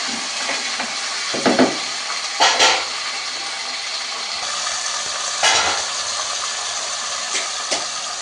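Chopped vegetables tossed into a pan of fried onions set up a steady, loud hiss of sizzling, with a few clattering stirs and scrapes of the spoon breaking through now and then.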